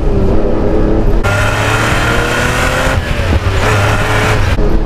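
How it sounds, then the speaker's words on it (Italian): Ferrari Testarossa engine revving hard from inside the car, a loud roaring drone that surges as revs climb after a shift, briefly dips and then pulls again, with no talk. "Mamma, il motore però."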